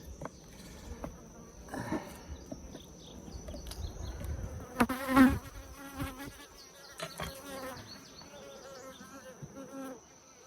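Honeybees buzz steadily around an open Layens hive in summer, a dense close drone with individual bees swelling louder as they pass near, plus faint handling noises and no talk.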